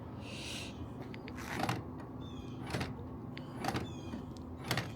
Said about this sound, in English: It unlocks and locks the car